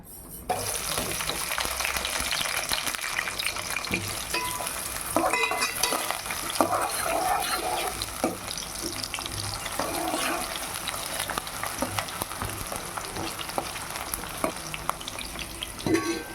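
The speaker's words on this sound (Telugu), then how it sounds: "ఇదిగోండి నూనె వేస్తున్నా, చికెన్ ఫ్రై. ఇదిగోండి 2 పచ్చిమిర్చి, ఉల్లిగడ్డ." Chicken frying in hot oil with two green chillies and onion, a constant dense sizzle and crackle with occasional stirring scrapes, fairly quiet and steady throughout.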